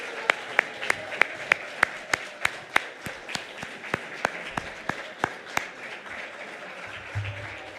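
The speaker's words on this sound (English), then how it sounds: "let us give you a round of applause and a really good candy bar" Volunteers at a spiritual service are applauded with a steady, evenly spaced run of crisp claps over quiet room murmur, fading near the end.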